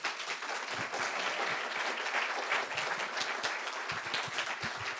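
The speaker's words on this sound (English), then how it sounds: "can we have a round of applause for our geniuses?" Theater audience at The Dali Museum clapping for a group of presenters, a steady, even wash of many hands applauding at moderate distance without pauses.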